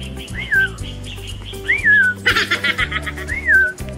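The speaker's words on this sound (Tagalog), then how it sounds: "Huni ng ibon na napaka ganda." A bird whistles three clear rising-and-falling chirps at even intervals, fairly close, over a steady low hum with a brief scratchy rustle midway, at Lignon Hill in Albay, Philippines.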